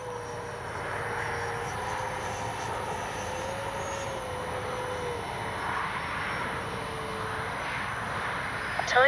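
A radio-controlled MiG-29 jet with a 64 mm ducted fan holds a steady, distant whine and rush as it makes a low gear-down pass, an even drone with no voices.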